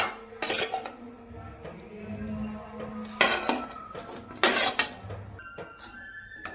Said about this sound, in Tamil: இப்போ நம்ம உருளைக்கிழங்கு போட்டுக்கலாங்க.